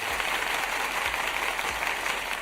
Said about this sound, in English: Yes, the clapping.